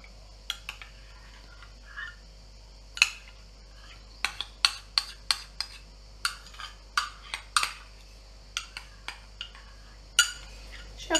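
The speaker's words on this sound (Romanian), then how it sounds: "le punem așa pe toate aici și le amestecăm pe toate." Yogurt and ingredients stirred in a bowl for honey yogurt ice cream: a utensil clinks and taps against the bowl in irregular bursts, close and fairly quiet, with no talking.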